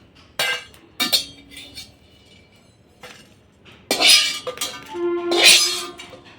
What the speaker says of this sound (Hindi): काली मिर्च जो है बहुत जल्दी ही चटकने लग जाती है